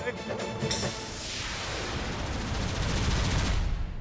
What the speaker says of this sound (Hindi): वहाँ पे गोलियां चल रही है, पटाखे नहीं